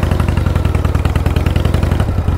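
A Harley-Davidson motorcycle fitted with drag pipe lollipops rumbles while riding, its loud, close exhaust pulsing in a fast, even, throaty rhythm throughout.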